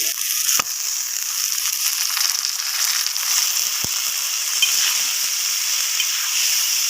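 Tomatoes and ginger sizzle in a hot pan while a meal is cooked for sehri, a steady, close, bright hiss that runs without a break, with a couple of faint clicks and no talking.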